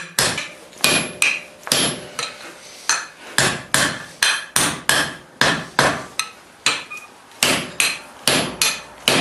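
Hammer blows on hot steel while forging bolt jaw tongs on an anvil, sharp ringing strikes repeating in a fast, steady rhythm, about twenty in all, loud and close.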